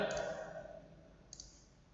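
Two quick mouse clicks on a start button in a C# animation program, each a short, crisp tick, the second arriving more than a second after the first and fainter, with no talking.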